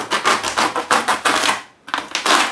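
Scrap wood being cut to take off a thin sliver for a construction model, a loud close series of rapid rasping strokes, a brief pause, then more strokes, with no talking.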